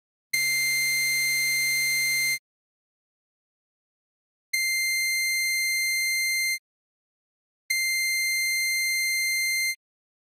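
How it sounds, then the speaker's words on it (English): A simple saw-wave synth oscillator plays three sustained high notes with pauses between, the first buzzy and harmonically cluttered with aliasing, the later two cleaner and thinner, steady and alone. "I have a simple saw oscillator here. I'll play quite a high note, set the quality to lowest, and gradually increase it."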